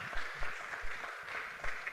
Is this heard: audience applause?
yes